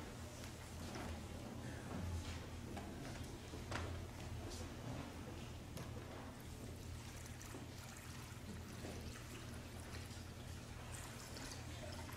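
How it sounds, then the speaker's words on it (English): Water poured into a font during a church baptism service, a soft continuous trickle and splash under a quiet room hum lasting several seconds. "would you mind pouring the water for me?"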